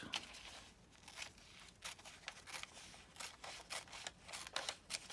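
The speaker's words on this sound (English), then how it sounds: "I'm just going to cut this one out." Scissors cutting out a magazine page, a quiet run of short crisp snips and paper rustles repeating close by with no talking.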